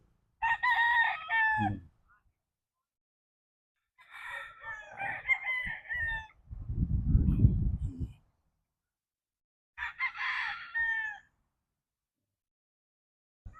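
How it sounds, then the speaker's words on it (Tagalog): Roosters crow three times with pauses between, fairly near, and a brief low rumble in the middle. No one speaks. "Ganda ng mga manok."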